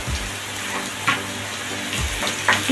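Chopped onion sautéing in a hot pan with crushed ginger and garlic gives a steady, close, continuous sizzle, broken by a few soft stirring scrapes.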